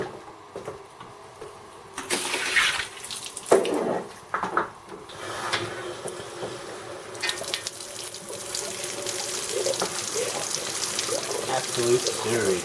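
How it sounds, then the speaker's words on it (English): Water gushing and splashing while flushing rusty sludge out of a Mercedes 280E radiator, an uneven running flow with bursts, drips and clatter, fairly close and continuing throughout. "I'm going to try and flush the radiator and see what I catch on camera"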